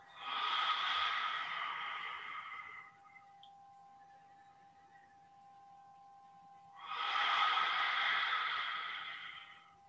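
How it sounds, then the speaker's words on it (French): Two long, loud breathy exhalations during seated qigong, made with the tongue stuck out, each lasting about three seconds and separated by a quiet pause; a faint steady tone hums underneath. "On inspire. On tire la langue à l'expire."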